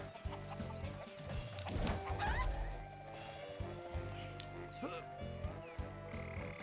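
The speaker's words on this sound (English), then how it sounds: "don't worry if the chickens fall in the water, they'll just respawn" Chickens cluck and croak in the Shrek 2 GameCube video game, steady and fairly faint, over background game music and ambience.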